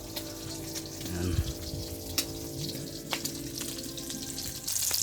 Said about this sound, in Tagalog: Prito natin. Yung pinaksiw